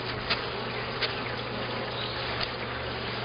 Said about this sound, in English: We've got bees on the top.